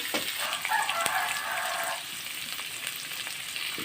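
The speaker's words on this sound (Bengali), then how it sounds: "এই যে গোল গোল বগুড়ার আলু একটু বড় দেখে কালকে কিনে নিয়ে আসছি আগে ভেজে নিচ্ছি" Round Bogura potatoes fry in a pan, giving a steady close sizzle and crackle with a brief brighter burst of spitting oil early on, and no voices.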